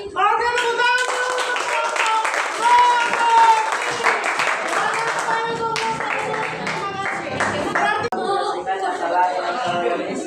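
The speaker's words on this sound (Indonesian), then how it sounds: "tepuk tangan" Classroom audience claps and chatters after a group presentation, scattered hand claps mixed with lively voices and a few chuckles.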